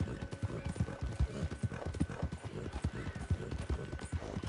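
Horse hooves in the Red Dead Online video game, a steady rhythmic clip-clop of a horse trotting along, fairly soft and continuous, with no talk over it.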